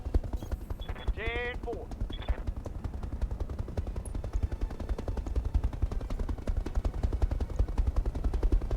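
A mech unloads a full alpha strike in the BattleTech RogueTech video game, a steady, dense machine-gun-like stream of rapid shots with low rumbling, while a brief radio-style voice speaks early on.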